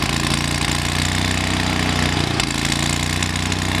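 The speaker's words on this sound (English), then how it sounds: "Cold start of the summer, or the winter. Fires right up, no problem." A Ranger 10,000 engine, with its exhaust needing repair, fires up from cold and settles into a loud, steady, close idle with a rough, pulsing rumble and no talk over it.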